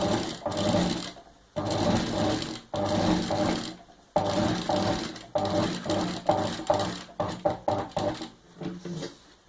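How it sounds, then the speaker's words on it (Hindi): A sewing machine stitches cloth for a diaper bag in rapid mechanical bursts, running in long stretches with brief stops, then shorter stop-start runs toward the end, close and alone. "ऊपर सिलाई दे देनी है दबा के"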